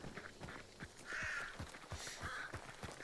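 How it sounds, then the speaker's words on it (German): Several crows caw in Hunt: Showdown, harsh calls at moderate distance over a quiet outdoor ambience with soft footsteps. "Oh, hier sind Raben."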